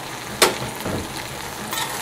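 Rice fries in a pot with celery, chicken and pigtail, a close, steady sizzle marked by a sharp stir or scrape and a few softer stirring sounds.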